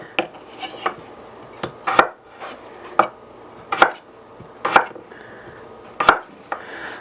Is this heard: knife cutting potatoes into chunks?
yes